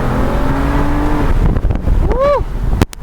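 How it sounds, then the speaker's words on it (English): A 2012 Aston Martin Virage Volante engine revs hard in first gear and accelerates, a loud sustained roar rising in pitch close by, ending with a sharp burst as the throttle snaps. "Let's listen to that engine again."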